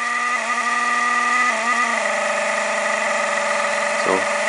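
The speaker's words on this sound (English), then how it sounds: "our motor's going probably near flat out" A small DC motor driven by Arduino PWM runs near full speed, giving a steady high-pitched whine with strong tonal harmonics that shift in pitch partway through, close and continuous, with a brief low thump near the end.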